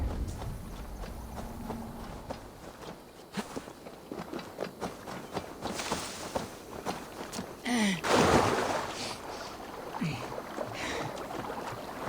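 Steady clip-clop of hooves plodding along at an unhurried pace in Assassin's Creed Valhalla, with creaking and a brief splash or rustle midway, no talking.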